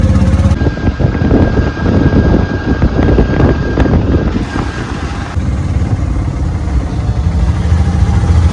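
An auto rickshaw ride out from a hotel in Tarapith, with a loud, steady engine drone and rushing road noise close by, continuous throughout and without talk.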